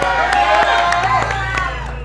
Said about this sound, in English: Make some noise, crowd.